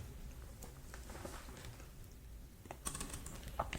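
A command being typed on a computer keyboard for installing HAProxy on an AWS EC2 server: a steady patter of quiet, close keystrokes with a few sharper taps near the end, alone with no speech.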